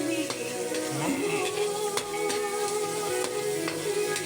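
Green peas hit a hot pan of sautéed fried rice base, giving a steady close sizzle and crackle with scraping stirs, a brief spatula clatter near the start and soft tapping throughout; no talking.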